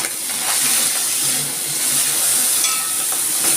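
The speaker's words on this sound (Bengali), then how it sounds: "এর মধ্যে দিয়ে দিচ্ছি আমি চিংড়ি মাছগুলো" Prawns hitting a hot pan for a jackfruit and prawn paste dish, giving a steady bright sizzle with soft stirring scrapes throughout, close and continuous with no talk.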